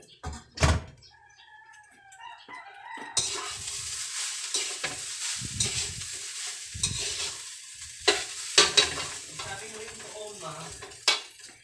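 Leftover rice stir-fried in a pan into Filipino garlic fried rice (sinangag), with steady sizzling and repeated scraping and stirring clatter of a utensil against the pan, a few louder knocks standing out.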